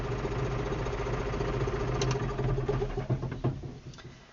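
A Claas Axos 320 tractor engine idles with a steady, loud, close diesel rumble and drone, then winds down and quiets toward the end.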